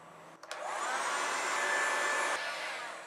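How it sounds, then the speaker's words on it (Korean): A small USB fan blows air to dry freshly sprayed paint on a custom Galaxy Buds case. It gives a steady, loud, breathy whoosh that starts after a brief click and holds evenly, with no voices. "USB 선풍기를 이용해서 얼른 말려주도록 하고"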